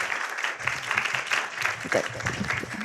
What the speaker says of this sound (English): Let's give another round of applause to Prabhu.